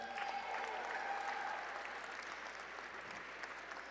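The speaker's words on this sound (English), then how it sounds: "One more big round of applause right up there." Steady, full applause from a large gala audience, many hands clapping continuously and evenly, easing slightly toward the end.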